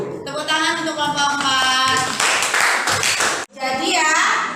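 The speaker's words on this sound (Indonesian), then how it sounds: "Tepuk tangan untuk kelompok" A school class claps for a presenting group, the loud rhythmic clapping mixed with children's voices talking and calling out over it, with a brief drop near the end before the noise resumes.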